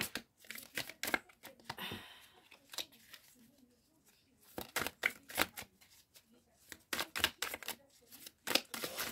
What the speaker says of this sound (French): comme ça vous voyez comment je mélange les cartes, comment je les récupère